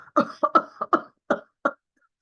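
A voice imitates a paroxysmal whooping cough fit, a rapid burst of harsh, choppy coughs, about seven in a row, quick at first and then spacing out.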